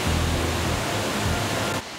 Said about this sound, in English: This pool is just energy that's stuck behind the waterfall.